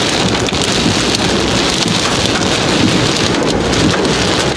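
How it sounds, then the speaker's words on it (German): Hail drums hard and steadily on a car sheltering under a gas station roof near Eindhoven, Netherlands, a loud dense clatter with wind noise and no pauses. "Der Hagel über uns drüber kommt."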